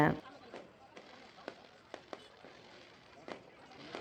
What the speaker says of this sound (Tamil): வான வேடிக்கை ஸ்டார்ட் பண்ணிட்டாங்க.